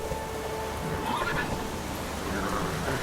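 Roach, a horse in the video game The Witcher 3: Wild Hunt, whinnies once or twice over a steady background, fairly close and moderately loud, with no talk.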